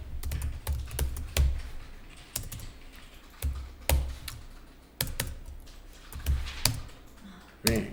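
Computer keyboard keys clatter in irregular bursts of crisp, close clicks, with short pauses between groups of keystrokes.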